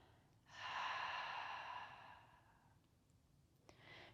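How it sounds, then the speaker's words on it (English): A deep belly breath is exhaled through the mouth during a yoga flow, a soft, breathy sigh that lasts about two seconds and then fades, with a faint second breath starting at the end. "Big belly breath in, fill up, 360-degree breath, and exhale out the mouth."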